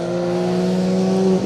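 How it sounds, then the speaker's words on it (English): Rally cars racing at the Colin Ellmore Memorial Rally stage, as a car closes on and passes a Peugeot 107 on the long back straight; a loud, sustained engine drone holding steady pitch, then dropping away at the end. "Team Woodford hunting down the"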